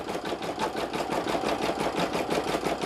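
A Brother PE770 embroidery machine sews a satin stitch on an appliqué iron-on patch made from printed fabric, giving a steady, fast, even mechanical clatter that runs close and continuous throughout.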